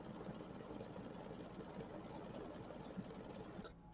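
An embroidery machine sews a triple stitch to tack down raw edge applique on a Kimberbell mini quilt, its steady rapid needle chatter running continuously and evenly at close range before cutting off abruptly at the end.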